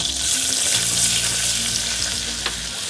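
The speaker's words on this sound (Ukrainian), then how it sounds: "В Розтоплене масло додаємо борошно і починаємо його смажити" Steady, dense sizzling of butter and flour frying in a pan for béchamel sauce, a continuous close hiss with faint scraping from stirring.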